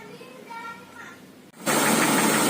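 Retro Toyota Crown engine after a tune-up with adjusted points and carburetor: a sudden loud crank and start that settles into a steady, rough, rumbling idle close by, following quieter background sounds.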